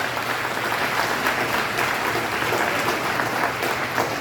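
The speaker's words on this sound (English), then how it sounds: "Big round of applause for the Preface Project." Sustained applause from a crowd at an awards ceremony, dense clapping at an even level throughout with no talking.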